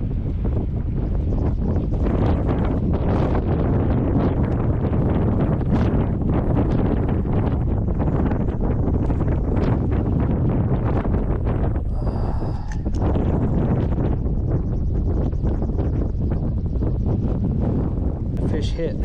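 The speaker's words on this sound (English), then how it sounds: "Wind is blowing hard." Strong wind blows across a Kansas lake, a loud, constant buffeting roar that fills the microphone without letup and nearly drowns out everything else.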